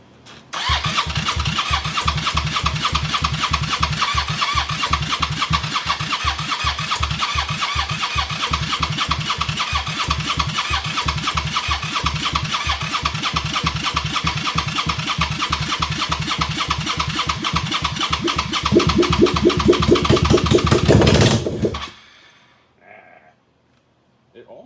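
A Suzuki SV650 motorcycle engine fitted with Hayabusa ignition coils starts for the first time, running loud and rough with rapid uneven firing pulses for about twenty seconds, revving briefly near the end before cutting out abruptly.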